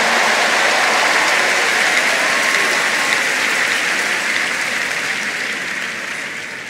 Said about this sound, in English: Give the Lord a big clap of triumph.